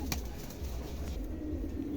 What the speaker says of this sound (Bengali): দেখেন চমৎকার এক জোড়া কবুতর দুটাই দুটাই অ্যান্ডুলুশিয়ান